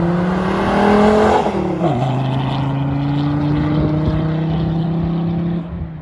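A 220 bhp diesel Volvo C30 driving with a loud turbo-fed exhaust: a steady droning engine note drops in pitch after a gear change, then holds a sustained loud hum before easing off near the end, with no voices.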